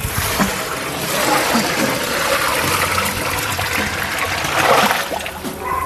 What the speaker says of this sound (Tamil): இப்போ நம்ம என்ன பண்ண போகிறோன்னா தண்ணி சேர்த்துக்கிறோம்